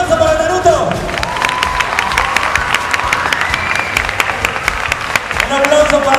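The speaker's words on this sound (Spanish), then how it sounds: "¡Un aplauso para Naruto!" A convention crowd claps and cheers for a Naruto cosplayer, with scattered whoops and children's shouts rising over the applause. Voices in the room carry on through the noise.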